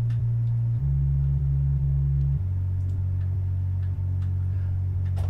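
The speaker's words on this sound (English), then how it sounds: "It's a simple sine wave sub bass line." A deep, pure sine sub bass line holding long low notes that step between pitches, steady and loud with no other sounds on top.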